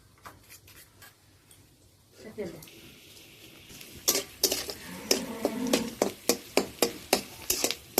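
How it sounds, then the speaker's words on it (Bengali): Sour yogurt is mixed in a bowl with cumin, coriander and dry chili powder, with quiet stirring at first, then a run of sharp, regular spoon clicks against the bowl, heard up close. "এই টক দইয়ের সাথে জিরা গুঁড়া, ধনে গুঁড়া, অল্প করে হলে শুকনো মরিচের গুঁড়া দিয়ে ভালো করে মিশিয়ে নেব"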